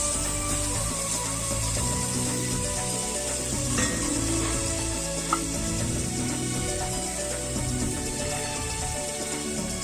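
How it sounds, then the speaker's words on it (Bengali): Water goes into a frying spice paste for a potato curry in a village kitchen, and the pot gives a steady, close, dense sizzle and hiss throughout, with a few faint clicks and no talking. "এবার মা জল দিয়ে দিল, একটু জল দিল।"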